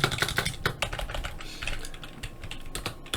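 Rapid, close keystrokes on a computer keyboard as code is typed into a spreadsheet form editor, a quick irregular run of clicky taps continuing throughout with no voice over it.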